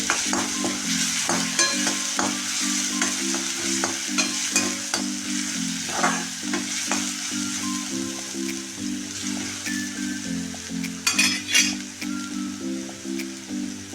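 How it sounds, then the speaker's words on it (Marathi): Green chilies fry in hot oil in a pan, a steady close sizzle with frequent clinks of a spoon stirring against metal running through the whole stretch, with no talking. "मिरची टाकून घेऊया एकदम छान फ्राय करून घ्यायचं आहे"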